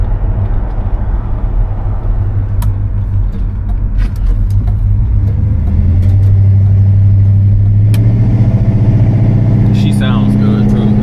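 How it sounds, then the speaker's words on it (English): A 1972 Oldsmobile Cutlass rumbles along the road with a deep, steady engine and exhaust note that swells louder and climbs in pitch through a gear shift, while people talk over it inside the car. "That exhaust definitely sounds solid."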